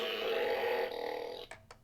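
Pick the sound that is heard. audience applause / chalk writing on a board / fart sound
fart sound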